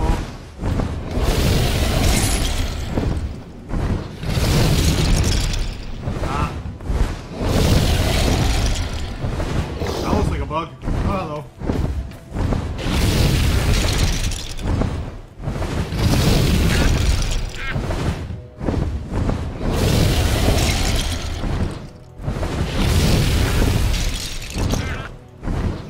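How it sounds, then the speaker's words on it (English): A dragon breathing fire at trees in Lego Worlds makes repeated loud whooshing roars and bursts in rhythmic waves, each blast followed by a short lull, with game effects crowding the mix. "My first interaction with trees is throwing fire at them from a dragon."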